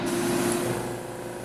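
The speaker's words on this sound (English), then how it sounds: "Let me turn on the fan over here." A booth exhaust fan runs steadily while rim edges get spray painted, a constant close mechanical hum and airy whoosh that holds even for the whole short stretch with no talking.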